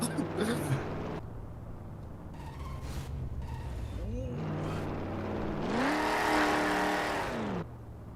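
A car in the Garry's Mod video game drives and turns, its engine droning and rising in pitch as it accelerates through a turn, with people talking over it.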